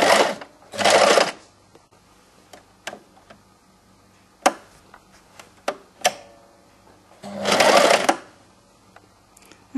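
A sewing machine topstitching close to the bound edge of a cardigan's neckline, running in two fast bursts at the start and end, with scattered clicks and taps of handling the fabric and machine in between.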